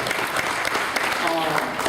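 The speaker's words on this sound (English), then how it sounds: "that deserves applause, absolutely" A nostalgia convention audience breaks into short, lively applause while a voice talks over the clapping.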